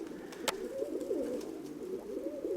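A pigeon coos in soft, rolling, repeated calls, fairly close but quiet, with a single sharp click partway through and no talking.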